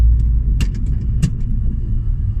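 A car fitted with a CAE Ultra Shifter pulls onto a dual carriageway. Its engine gives a loud, close rumble, with a couple of sharp clicks over a brief stretch.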